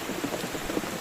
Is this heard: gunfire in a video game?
no